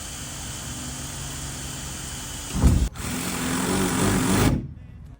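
Thin metal van body cut with a power cutter fitted with Bosch medium metal blades, a loud steady buzzing whine that surges briefly near the middle and then stops abruptly.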